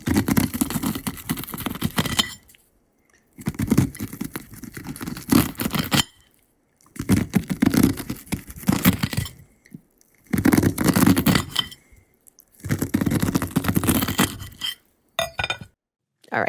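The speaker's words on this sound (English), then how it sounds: "That was the sound of my dad cutting kernels off of a corn cob." Knife slicing kernels off a corn cob on a plate, bursts of crisp scraping and clicking cuts repeated in about six separate strokes with short silent gaps between them.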